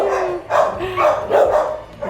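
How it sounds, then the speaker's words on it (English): A litter of tiny puppies barks and yips nearby in a string of high-pitched calls, several overlapping yaps under faint background noise. "More puppies over here."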